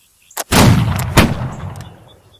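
A volley of musket fire on the command to fire, a loud, close ragged blast with a second crack following about half a second later, then a rumbling decay.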